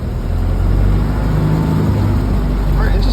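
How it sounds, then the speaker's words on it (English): A Model A Ford engine, freshly reworked with many new parts, revs steadily under added throttle, a loud, continuous close-up rumble and whir that holds constant without pauses. "Let me put a little throttle in here."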